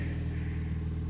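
A 1995 Honda with a quiet exhaust idles at close range, a low, steady engine rumble with a soft, even throb, no voices.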